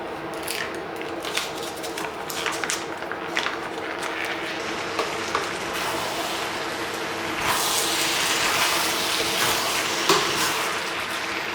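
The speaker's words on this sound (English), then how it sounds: "We'll pour all of this pasta sauce in here." Thick Bolognese pasta sauce from a 400-gram packet poured into a baking dish for a cheesy beef and potato pasta bake, a steady wet pouring and glugging that lasts throughout, fairly close, with no talk.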